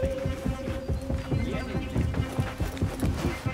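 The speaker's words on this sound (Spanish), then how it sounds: "Vamos a coger el caballo." Horse in the video game Assassin's Creed Mirage, close and loud hoofbeats in a quick clip-clop rhythm with neighing, continuous throughout.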